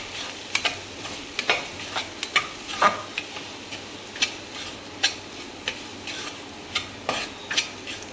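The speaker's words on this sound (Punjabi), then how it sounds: "ਅੱਧਾ ਚਮਚ ਆਪਾਂ ਹਲਦੀ ਦਾ ਪਾਇਆ ਹੁਣ ਆਪਾਂ ਇਹਨੂੰ ਮਿਕਸ ਕਰ ਲੈਂਦੇ ਹਾਂ" A spoon scrapes and taps repeatedly in a pan as half a spoon of turmeric is stirred into a mashed potato filling for stuffed capsicum, with light sizzling beneath the irregular, close stirring clicks.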